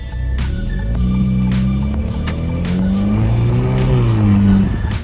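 A car is driven along a street on a test drive, engine revving up and down through gears in a steady hum with tire noise, heard from inside and fairly loud throughout.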